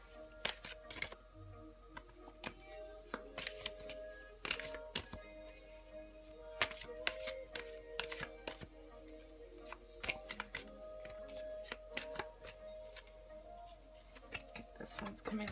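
Tarot cards being shuffled by hand during a psychic reading, a run of soft, rapid riffling clicks and slaps in an uneven rhythm, close and quiet, with occasional faint talking behind.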